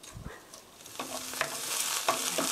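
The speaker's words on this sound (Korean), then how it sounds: "미디엄 히트 중불로 하시고요. 스타 프라이 3 미닛 3분 정도 볶아주세요." Green onion stir-fried in oil over medium heat for spicy tteokbokki, a steady close sizzle with a few scraping stirs in the pan.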